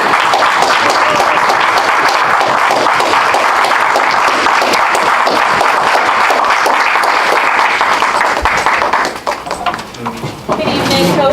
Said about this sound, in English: Let's give a rousing round of applause for Toastmaster Gabriella Collins.